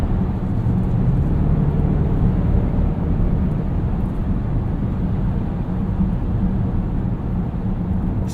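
Supercharged 5-liter V8 of a 2018 Range Rover Sport with an 8-speed gearbox, heard as a loud, steady low roar that holds for several seconds without talk.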